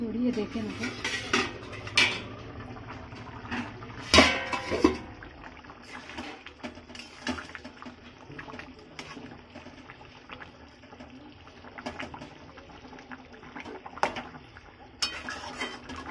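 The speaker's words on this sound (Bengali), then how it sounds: "জলটা দিয়ে দিলাম এবার ঢাকনা দিয়ে ঢেকে দেবো" A cooking pot of potato and mutton curry takes its lid after hot water is added. Several metallic clinks come first, then one sharp, loud clatter, over a low background with a voice speaking.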